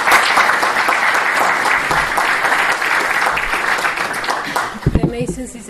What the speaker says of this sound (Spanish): para que le demos la bienvenida con un aplauso